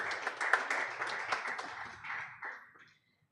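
An audience at a public press and engagement event applauds with dense, lively clapping that carries for about two and a half seconds, then fades quickly into silence.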